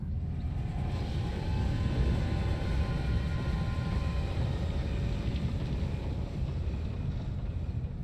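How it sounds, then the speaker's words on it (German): A train rushing past in the video game Alice: Madness Returns, heard as a loud, continuous low rumble and roar with a windy hiss that holds steady for several seconds, with no talking. "Und dann ist erstmal der fucking Zug hier lang gerauscht."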